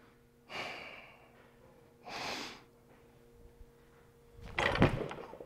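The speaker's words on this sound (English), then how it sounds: "Big breath." A deep, forceful breath drawn before a weightlifting snatch, with two loud breathy inhales close to the microphone, then a sharp exhale and clatter a few seconds later.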